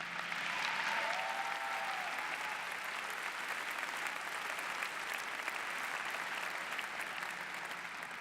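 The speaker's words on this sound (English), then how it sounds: "Let's give a huge round of applause to all our lifelines." A large commencement audience claps steadily in sustained applause, dense and even throughout, fading slightly toward the end.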